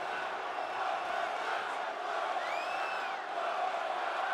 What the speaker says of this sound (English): The crowd are deranged for chanting one more time.